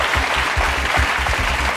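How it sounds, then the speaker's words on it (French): A TV game show studio audience applauding, a short burst of steady, dense clapping at moderate level, heard alone without talk. "Le public vous applaudit, vous félicite."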